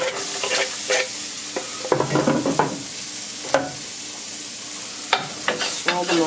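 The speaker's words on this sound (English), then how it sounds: "We're going to add a little extra butter to the pan." Onions stirred in melted butter in a pan, giving a soft sizzle broken by scraping and stirring strokes with a few sharp utensil knocks, close up and with no talking.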